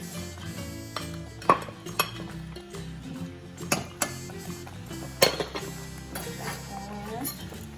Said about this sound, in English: Whisk it a little bit